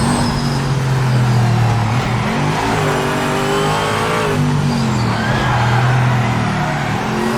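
A C6 Corvette's V8 roars in a racing video game at the Nürburgring GP circuit, loud and close, with rising and falling revs through gear changes and no one talking.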